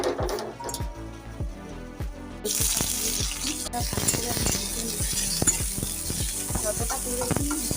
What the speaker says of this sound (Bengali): কড়াইয়ের মধ্যে এক চামচের কম আমি সর্ষের তেল দিয়ে দিয়েছি আর এখন উচ্ছেগুলো আমি ভেজে নিই